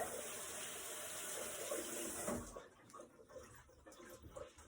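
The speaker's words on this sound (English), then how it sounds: "Let me wash my hands off a little bit." Water runs from a kitchen tap as hands are washed, a steady close rush that cuts off partway through, followed by faint splashing and handling noises.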